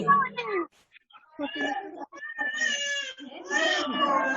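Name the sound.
child crying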